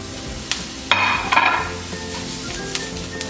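Ginger and garlic hit hot oil with spices in a pan for a South Indian prawn masala, giving a sudden loud sizzle that surges, then settles into a steady crackling fry.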